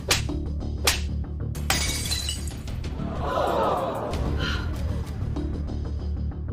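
Glass shatters during a heated confrontation in a drama scene: sharp impacts near the start, then a longer, scattering crash of breaking glass in the middle, fairly loud throughout.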